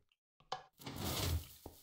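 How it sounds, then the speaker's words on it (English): A wooden door swings open in the Minecraft video game: a brief knock-like clunk, then a short burst of scraping rustle and a faint final tap. The sound is close and moderately loud, with no talking. "Open the door it is."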